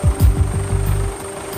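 Emergency medical helicopter in Australia, heard as a steady run of deep rotor thumps at a quick, even pace, fairly loud and close with no talk over it.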